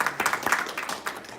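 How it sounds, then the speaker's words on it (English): A conference audience at a UN climate action forum claps, a short burst of scattered, uneven hand claps. "Everyone, please give these people a round of applause for being here."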